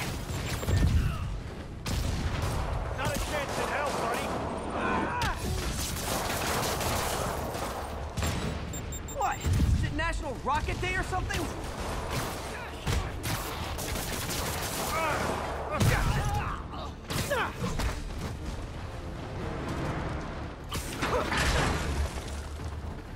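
Rocket explosions and gunfire crash repeatedly in a Spider-Man video game, dense bursts and booms layered over action sounds with voices speaking in between.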